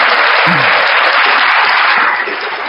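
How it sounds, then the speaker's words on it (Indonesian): Audience applause at a church teaching session on the Trinity: a dense, steady wash of clapping that stays strong throughout and eases slightly near the end. "Kita kasih tepuk tangan dulu,"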